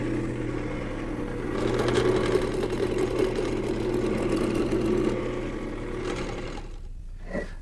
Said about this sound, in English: So I've mounted a smaller blank in the lathe